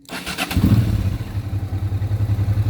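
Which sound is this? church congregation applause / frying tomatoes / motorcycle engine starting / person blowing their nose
motorcycle engine starting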